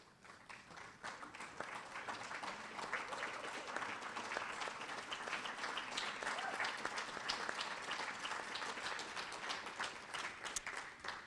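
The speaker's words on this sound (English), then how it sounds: "Please stand at this time for a round of applause." Sustained applause from an awards ceremony audience at a varsity Hall of Fame event, steady dense clapping filling the hall for about eleven seconds at moderate distance, fairly even throughout.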